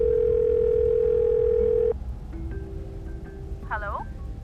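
A telephone call to a family in Kenya opens with a loud, steady tone for about two seconds, followed by quieter, intermittent line tones and a brief voice near the end.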